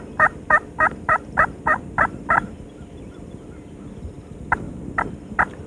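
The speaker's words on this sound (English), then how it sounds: "Other birds gobbling in the distance, just out of sight" Wild turkeys gobble outdoors during a spring hunt, with a quick series of about eight sharp, rhythmic calls followed by a pause and three more, fairly loud and slightly distant.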